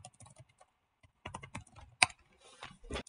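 Keys on a computer keyboard tap out a password for a Revolution Pi Connect 4 login, a few soft, close clicks in short bursts with pauses between, faint and quiet with no talking.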